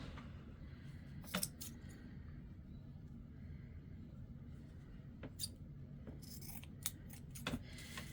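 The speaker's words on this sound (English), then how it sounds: "Need my fabric scissors." Several crisp scissor snips cut through fabric at close range, coming in short isolated bursts over a quiet background hum.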